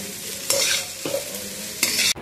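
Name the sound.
stir-frying chowmein with chili sauce, soy sauce, vinegar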